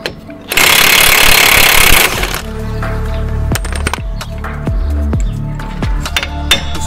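An impact wrench hammers at seized bolts on a wheel bearing, giving one loud, steady burst of about a second and a half, followed by lighter metallic clinks and taps.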